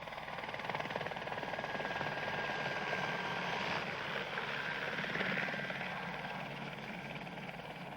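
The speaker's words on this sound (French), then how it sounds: "Cet hélicoptère devait certainement venir de leur base." A cartoon helicopter over the Antarctic drones steadily with a whirring rotor hum, a continuous mid-distance engine sound holding level throughout.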